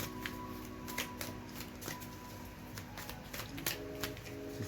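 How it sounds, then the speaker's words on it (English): Tarot cards are shuffled close by, with soft riffling and repeated light taps and flicks over a faint steady hum, in a quiet room with no talking. "I'm just gonna shuffle really quick so I can get some advice."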